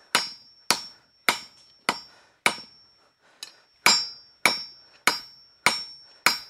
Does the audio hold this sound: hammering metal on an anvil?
yes